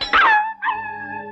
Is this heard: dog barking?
yes